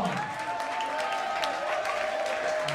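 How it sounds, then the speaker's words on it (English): A concert audience applauds the performers at a show, giving a steady, dense wash of clapping that lasts the whole moment, with a faint sustained tone running beneath it. "let's give them a big round of applause"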